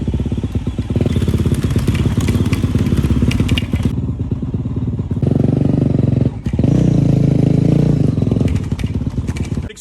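A dirt bike fitted with a dually front wheel rides on pavement, its engine a steady loud rumble throughout with clattering and thumps, easing briefly before resuming at full strength.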